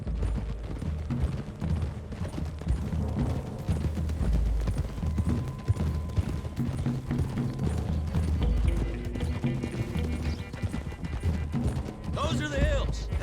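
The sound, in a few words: horses galloping hooves, from video game Red Dead Redemption 2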